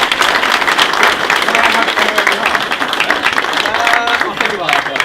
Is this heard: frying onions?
no